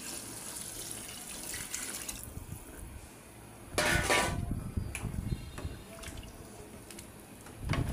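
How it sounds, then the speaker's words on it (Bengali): Water is poured into a chicken curry cooking in a pot, a soft splashing and trickling that swells into a louder gush midway, then settles into quieter bubbling and clinks, close and without talk. "এখন আমি একটু পানি দিয়ে দিব।"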